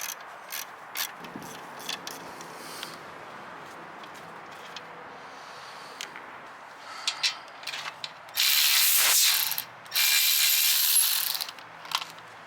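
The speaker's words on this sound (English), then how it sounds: "We need to swap out the old studs from the old condenser since the new one doesn't have them." A hand ratchet wrench removing studs from an old AC condenser off a 2011-2014 Dodge Charger, rapid close clicking of the pawl in short bursts, then two loud sustained whirring runs of a power tool.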